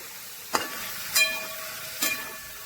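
Sugar melting in a pan is stirred, giving three distinct scraping strokes spaced about a second apart over a steady low hiss.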